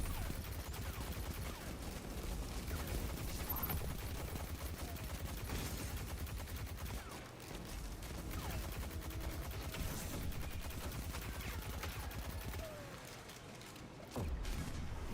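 Constant, dense gunfire from a scout rifle in a first-person shooter video game, rapid cracks layered over a busy, loud battle din that barely lets up, with brief dips near the middle and the end.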